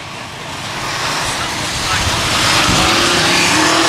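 Race cars lapping a dirt speedway late in the season, a continuous loud roar of engines building steadily over a few seconds, with crowd or track noise mixed in and no clear break.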